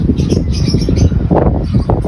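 Pigeons from a home loft taking off and flying in midday heat, a near, continuous flutter of flapping wings mixed with faint bird calls, no voices.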